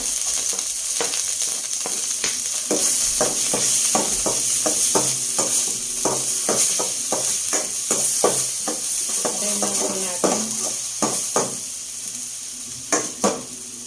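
Ginger and garlic sauté in hot oil in a pan, a continuous sizzle broken by frequent sharp spatula scrapes and clinks against the pan in an irregular rhythm, with no talking.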